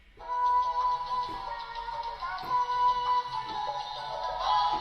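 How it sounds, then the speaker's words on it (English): A sustained electronic sample with a gritty, distorted tone and spacious reverb, steady tones pulsing with faint rhythmic hits, playing alone for several seconds. "I added a bit of distortion and a bit of reverb"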